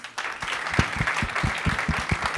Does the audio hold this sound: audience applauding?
yes